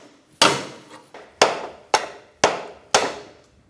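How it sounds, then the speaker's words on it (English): A sledgehammer strikes a pry bar braced against the CV axle of a 2005–2010 Chrysler 300, giving five loud, sharp metallic whacks about half a second apart, each ringing briefly before fading, with a softer tap between the first two. "Now I'm going to give it a good whack with a pry bar up against the back of the axle and a sledgehammer"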